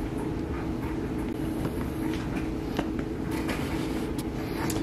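A clothes dryer runs in a garage with a steady, loud tumbling rumble and hum, faint knocks and clicks scattered through it, and no voices.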